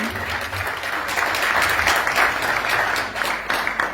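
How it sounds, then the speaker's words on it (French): A conference audience breaks into loud, sustained applause for an introduced guest, a dense, steady roar of many hands clapping with no pause. "Un tonnerre d'applaudissements pour Monsieur Irian."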